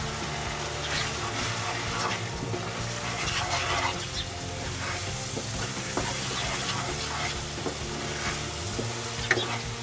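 Spices and kalonji (nigella seeds) sizzle steadily in hot oil for chicken achari, a continuous close crackling hiss with stirring clatter throughout and no talk.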